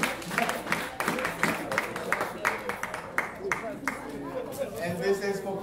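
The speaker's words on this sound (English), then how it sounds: "give her a big clap for our friend" Talk show audience applauding during a marriage and relationship episode: dense, steady clapping spread across the room, mixed with crowd chatter and voices talking over it.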